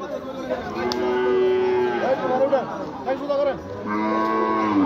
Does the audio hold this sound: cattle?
yes